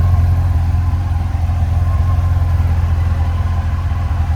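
Close, steady idle from the exhaust of a Yamaha FJR1300 motorcycle with about 181,000 miles, a deep, even rumble with no revving and no talk.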